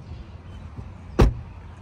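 A heavy door shuts on a 2024 Mercedes-AMG GLE53 Coupe, one solid, close thump standing alone over a low, quiet background.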